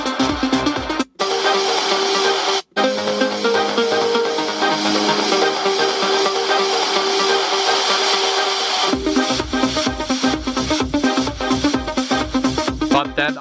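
An electronic dance track, a remix with an arpeggiated synth sound, plays loud and dense throughout with a steady driving beat and two brief dropouts near the start.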